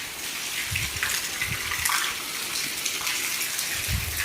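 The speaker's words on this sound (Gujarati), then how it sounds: "મારું ગૌશાળામાં પાણી ભરાઈ ગયા" Floodwater gushes through a cowshed after heavy overnight rain, a steady, loud rushing wash that continues without a break and with no voices.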